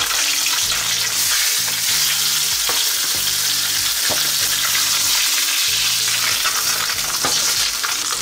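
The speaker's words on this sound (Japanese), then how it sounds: "強火ファイアバーン。 何をするか、ささっと焼きます、表面を。" Food sears in a pan over high heat after garlic has been fried in the oil, a loud continuous sizzle with intermittent scraping and stirring strokes, close and without talk.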